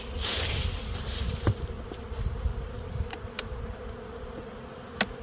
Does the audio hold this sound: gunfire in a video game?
no